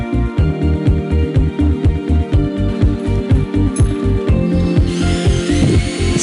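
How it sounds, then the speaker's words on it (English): A power tool drives screws to secure a U-channel, a loud, close, steady motor drone with a rapid pulsing rhythm that shifts in pitch near the end as the screw seats. "Insert the screws on two such holes. This is to secure the channel in place."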